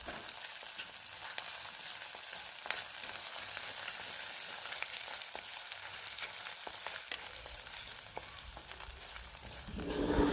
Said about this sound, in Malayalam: നല്ല രീതിയിലൊന്ന് ബ്രൗൺ കളർ ആകുന്നവരെ നമുക്കിത് സോട്ട് ചെയ്തെടുക്കാം.